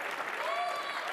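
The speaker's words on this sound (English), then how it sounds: "you're applauding that?" An audience applauding in a hall during an onstage conversation, a steady dense patter of many hands clapping throughout, with faint voices mixed in.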